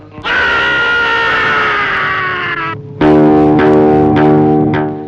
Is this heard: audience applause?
no